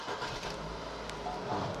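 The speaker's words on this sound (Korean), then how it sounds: "오 엔진소리 좋네" A mid-size sedan's engine runs at a steady idle, a dense continuous rumble close by, with no distinct cranking burst.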